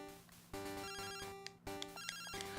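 A Pokemon Silver phone ringtone plays in the game: a chiptune jingle of bright, stepped electronic tones that repeats in short bursts, clean and moderately quiet.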